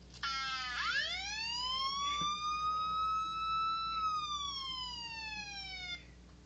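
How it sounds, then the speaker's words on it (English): A siren sound effect played from an iPod produces a single loud wail that swoops upward and holds, then bends slightly lower before cutting off abruptly after about six seconds. "Siren."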